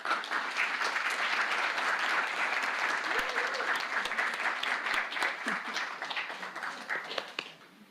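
Sustained audience applause welcoming a guest speaker at a Victorian Christmas traditions event: dense steady clapping from a full room that holds for several seconds, then tapers off near the end.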